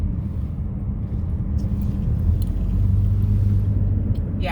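A car drives through the streets of Cotonou, Benin, its steady low engine rumble and road noise filling the cabin, with faint distant traffic sounds and a few light ticks near the end.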